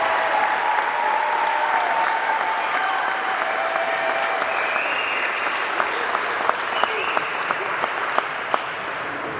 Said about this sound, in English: I want everyone one more round of applause for all these signees today